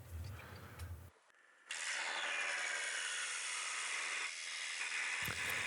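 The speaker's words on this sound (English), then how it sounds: "I'm using a hole saw with the bottom bracket diameter, and I'm just drilling straight down 90 degrees" A power drill whines steadily as a hole saw grinds and rasps continuously through a large metal bike frame tube after a brief pause, loud and close.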